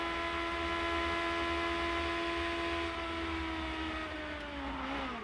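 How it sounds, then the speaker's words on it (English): A 2004 IndyCar race car at Homestead holds a steady high engine drone through top gear, sustained and loud with a slight pitch drop near the end. "Listen to the throttle when he goes through top gear."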